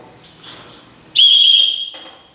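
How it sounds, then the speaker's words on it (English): An emergency whistle from a gear bag gives one loud, sharp, steady shrill blast lasting most of a second, then cuts off, with faint handling noise before and after. "A whistle. Think about it."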